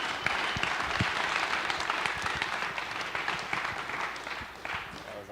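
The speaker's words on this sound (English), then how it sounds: "Big round of applause, please, for Travis" Conference audience applause on a summit main stage, a dense, sustained roar of clapping from a large crowd, steady and fairly loud throughout with a few faint voices mixed in.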